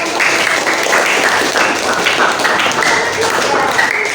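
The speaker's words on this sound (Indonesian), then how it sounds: "Beri tepuk tangan buat teman-teman yang sudah mewakili." A classroom of students claps for their classmates, a dense, steady burst of applause lasting several seconds, close and loud, with no talking over it.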